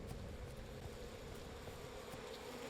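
Bees buzzing in the video game We Happy Few: a steady, dense insect drone holding evenly throughout, with no pauses and no talking.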